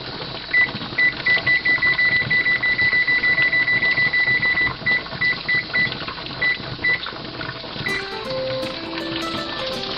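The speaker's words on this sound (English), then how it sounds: "so I'm going to set the timer for 90 minutes" A kitchen timer is set for 90 minutes during pressure canning of pumpkins at 10 pounds of pressure: a rapid run of short, bright beeps, then a few spaced beeps, over a steady hissing background.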